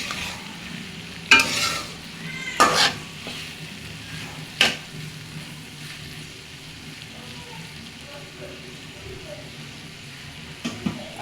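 Flat beans fry in a pan and are stirred now and then: a soft, steady sizzle broken by a few sharp scraping strokes of the spoon.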